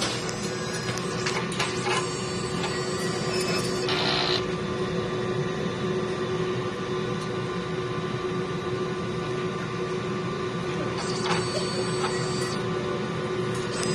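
A sublimation printer, used for four days and about 94 meters of printing, runs a head-clean cycle. It gives a steady mechanical hum with intermittent whirring and clicking from the carriage, close by and without speech.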